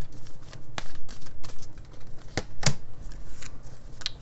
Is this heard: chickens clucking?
no